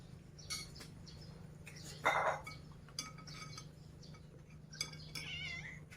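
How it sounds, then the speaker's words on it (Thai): A cat meows several times in short, fairly faint calls, one louder cry standing out, with light clinking and a soft steady hum in the background. "นี่แมว"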